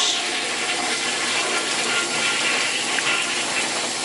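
Toilet flushing in a bathroom during cleaning, a continuous rushing hiss of water held steady and close throughout, with no voices.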